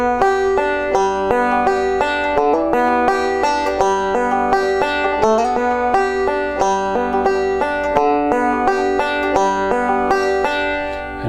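Banjo playing continuous picked rolls ornamented with fast slides and hammer-ons, a bright, rapid, even stream of plucked notes, close and loud with no talking.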